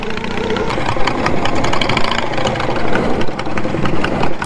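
A riding lawn mower engine churns loudly and roughly as it drives through mud, a close, steady rumble with knocking and fluctuating revs.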